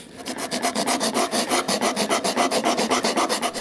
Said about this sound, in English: we can curve those with the sandpaper